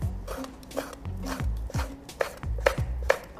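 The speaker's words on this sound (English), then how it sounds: "so I'd probably just cut it into even pieces like this and stack them" Knife slicing through stacked seaweed on a cutting board, a run of firm, evenly spaced thuds and crisp cuts close by, with no talking.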